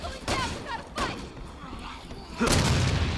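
Gunfire from the Resident Evil 6 video game, with several loud burst-like shots spaced out across a few seconds and a heavier blast at the end, sounding close and punchy.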